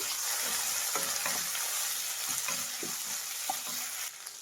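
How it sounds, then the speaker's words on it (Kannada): Ginger garlic paste frying in a pan for egg rice, a steady close sizzle with intermittent stirring scrapes throughout. "ಒಂದು ಅರ್ಧ ಟೇಬಲ್ ಸ್ಪೂನ್ ಅಷ್ಟು ಶುಂಠಿ ಬೆಳ್ಳುಳ್ಳಿ ಪೇಸ್ಟ್ ಹಾಕ್ತಾ ಇದ್ದೀನಿ. ಇದು ಅಷ್ಟೇ ಹಸಿ ವಾಸನೆ ಹೋಗೋವರೆಗೂ ಫ್ರೈ ಮಾಡಿ."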